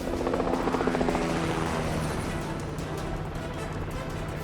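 A helicopter flies low over dense jungle, its rotor thumping loud and steady with a dense roar that eases slightly as it passes.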